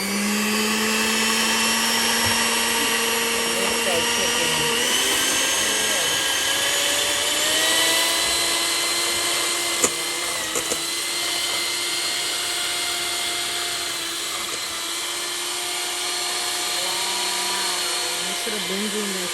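An electric kitchen mixer runs in a bowl with a steady, close motor whine that shifts pitch slightly as it works and keeps going without a break.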